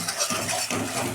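Onion and tomato paste sizzling in hot oil in a pan while being stirred for a prawn curry, with scraping strokes and a short break in the middle, close and fairly loud.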